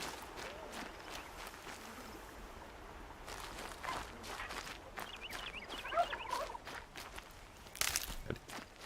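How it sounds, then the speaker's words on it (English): A chicken clucks in short, light bursts amid the ambient soundscape of the Horizon Zero Dawn game world, mixed with soft footsteps and rustling, faint and somewhat distant, no talking. "Chicken."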